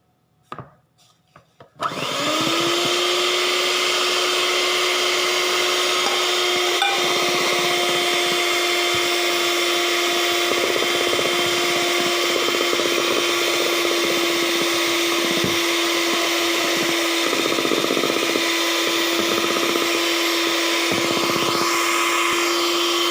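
A mixer grinder switches on and runs continuously, beating eggs and sugar in its jar with a steady, loud whirring drone, after a few brief clicks at the start.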